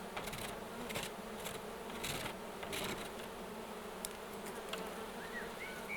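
Honey bees swarm around an open hive with the boxes pulled apart, a dense steady buzzing drone close by with soft clicks and rustles from handling the frames.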